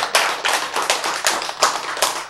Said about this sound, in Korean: 이때 박수 한번 쳐야지